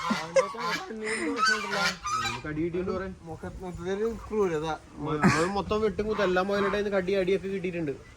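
A goose honks again and again in loud, nasal calls, with people talking over and between the calls.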